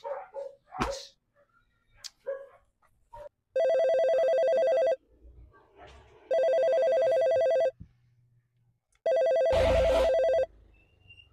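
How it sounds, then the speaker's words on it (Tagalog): A telephone rings in three long electronic bursts separated by pauses, loud and close, preceded by a few short barks or thumps at the start. "Tumatawag ang nanay ni Blandina"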